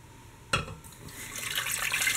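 Tap water runs into a cooking pot holding stock cubes for a vegan nut roast, starting with a sharp splash and then a steady, rising rush of pouring liquid, close and fairly loud with no talking.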